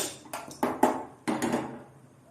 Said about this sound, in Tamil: இப்போது ஸ்டவ் ஆன் பண்ணி பாத்திரம் வச்சுக்கலாம் ஃப்ரை பண்ணுறதுக்கு.